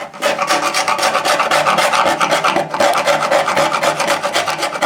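A cheap chisel scrapes residue off a motorcycle part in steady, rapid rasping strokes. The scraping is loud and close and continues without pause.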